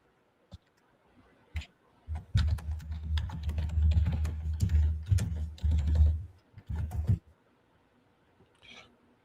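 Rapid clattering keystrokes on a computer keyboard, coming in bursts with a dense run in the middle and sparse clicks at the start and end, close to the microphone.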